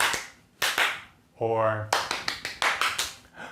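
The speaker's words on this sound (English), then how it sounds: "That's where I clap and then my students clap like me." Rhythmic hand clapping used to get a class's attention, sharp claps in quick patterned groups with a brief spoken word in between, close and crisp.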